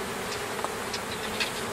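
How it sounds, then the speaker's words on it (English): Honey bees buzz steadily around a hive entrance as they fly in and out, a continuous soft drone with a few brief louder passes close by. "there's bees coming in and out"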